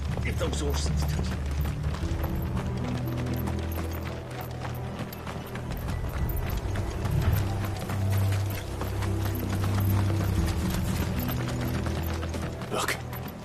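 Horses galloping in Final Fantasy XVI, a steady clip-clop of hooves with mechanical rattling, running continuously under game music and voices.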